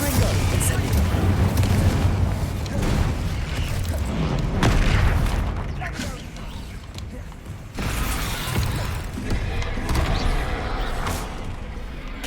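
Spells cast in the Hogwarts Legacy video game, Confringo and Incendio, burst out as dense booming blasts and crackling fire, loud and continuous with repeated swells, mixed with game sounds and occasional speech.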